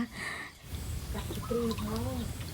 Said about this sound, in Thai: มีทั้งเสียงนกเสียงไก่นะคะ